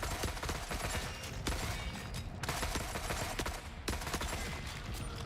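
A Glock 9mm SMG firing in The Forever Winter: steady, dense rapid fire with a few louder bursts standing out, close and continuous, over a busy game background and with no speech.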